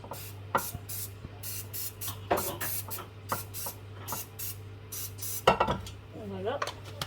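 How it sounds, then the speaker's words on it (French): Short hissing bursts of cooking spray from an aerosol can greasing a muffin tin, repeated about a dozen times, with light metallic clinks of the tin and a quiet voice talking. "Je vais d'abord graisser mon moule. Alors moi, c'est une bombe graissante."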